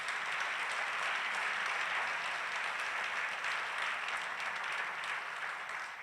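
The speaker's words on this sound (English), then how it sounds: "Let's give them a round of applause as well" Steady audience applause at a city's State of the City address, an even, continuous wash of clapping from a large crowd, held at a constant level and easing slightly at the end.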